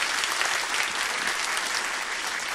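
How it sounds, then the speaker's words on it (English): A studio audience at an Irish television Christmas entertainment special gives a big round of applause, a thick, even wash of many hands clapping at once, sustained at a steady level throughout. "Give him a big round of applause."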